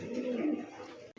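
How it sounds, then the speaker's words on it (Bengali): A pair of deep red Lahori pigeons coos softly with low, throaty murmurs for about a second, faint and nearby, with no speech over it. "এই মুহূর্তে দেখতে পাচ্ছেন টকটকা লাল কালারের মধ্যে একজোড়া লাহোরি কবুতর"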